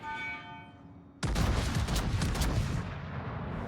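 Secondary battery guns firing from a warship in World of Warships, where a sudden loud volley breaks in after a faint tonal hum and is followed by a dense stretch of rapid booming shots that slowly thins out.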